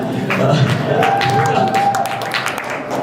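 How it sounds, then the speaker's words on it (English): Comedy club audience at a Last Comic Standing show breaks into cheering and applause, a steady loud wash of clapping and whoops lasting a few seconds. "woo, let's cheer that."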